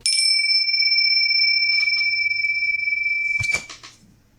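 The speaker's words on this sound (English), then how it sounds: "Ugh, those bells. I like the bells." A bright bell rings with a long sustained tone, followed by a few lighter dings and a softer clatter near the end.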